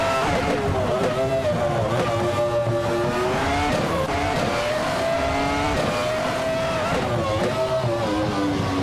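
Race cars speeding along a track, a continuous droning engine roar with shifting pitch as the cars hold high revs, loud and unbroken throughout.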